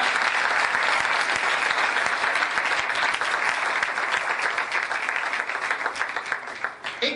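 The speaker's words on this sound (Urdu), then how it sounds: "ان کی محبت کے لیے تالیاں بجائیے." Dense applause from a seated audience at a Christian seminar in Karachi, loud and steady throughout and slowly thinning toward the end.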